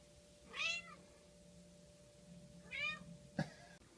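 A kitty on a couch gives two drawn-out meows, the second followed by a short chirp, close and fairly quiet against a soft background hum, with no talking.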